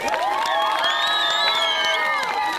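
A concert crowd at a 9 May outdoor show in Sarny cheers and whoops loudly, with high excited voices and some clapping sustained throughout.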